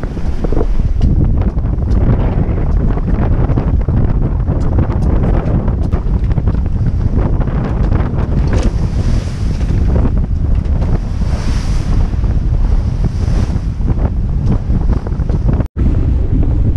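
Strong wind roars into the microphone while waves surge around a sailboat crossing the Bay of Biscay under a double-reefed main in about 25 knots of apparent wind, loud and continuous.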